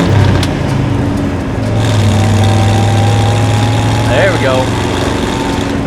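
A 1957 Chevrolet Bel Air engine runs steadily under light throttle on a coastal road, a low droning rumble that swells slightly as it pulls, with a man's brief remark over it.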